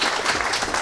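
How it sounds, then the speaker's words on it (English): A studio audience applauds a podcast guest, a short dense burst of clapping, close and moderately loud. "Can everyone give Kirsty another big round of applause,"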